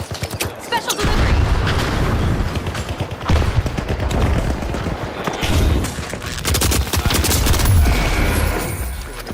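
In the shooter game The Finals, a frag grenade bursts amid rapid gunfire, with dense volleys of shots, booming hits and mechanical clatter running continuously and loudly throughout.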